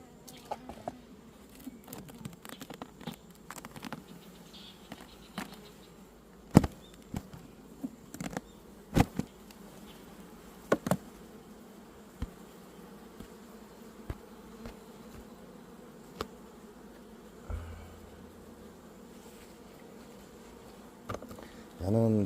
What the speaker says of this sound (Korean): 얘는 벌이 쏟아져요.